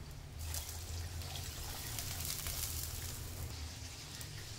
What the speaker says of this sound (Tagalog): Maglalagay na tayo ng tubig.